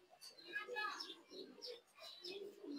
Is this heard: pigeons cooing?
yes